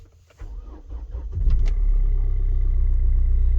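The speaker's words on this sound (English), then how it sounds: "we start our engine, and our car wants to move already before we even do anything else" A 2006 Kia car engine starts and settles into a steady, loud idle while the clutch fails to disengage, a low rumbling drone rising after an initial crank and holding constant to the end.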